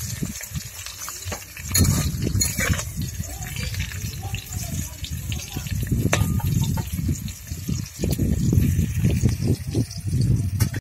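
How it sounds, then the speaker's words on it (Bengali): Slices of pointed gourd fry in hot oil, giving a continuous, moderately loud sizzle with crackling bursts that rises and falls throughout, close to the listener. "তেলটা প্রায় গরম হয়ে গেছে, পটল দিয়ে দেবো। সব দেবো না, হাফ করে দুবার ভাজবো।"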